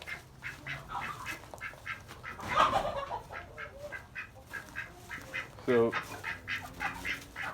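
Pet ducks on a farm quack and chatter in a busy flock, with repeated nasal calls and some louder squawks nearby, and someone speaks briefly over them.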